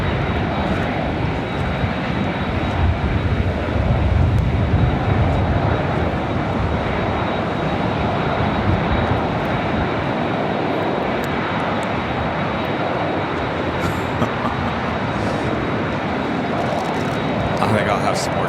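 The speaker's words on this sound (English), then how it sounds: "Finner Flight 1 touching down there on 248." Finnair flight touching down on runway 24R at LAX, a broad, steady aircraft engine roar and rush at moderate distance that swells early and then holds throughout, with a person speaking over it.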